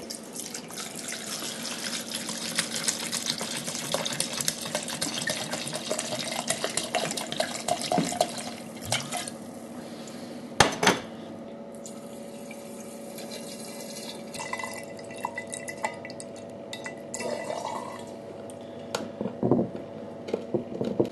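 Cheap vodka pours into a bottle with an uneven liquid gurgle and splash, joined by clinks and handling noises, a sharp knock midway and a few drips toward the end.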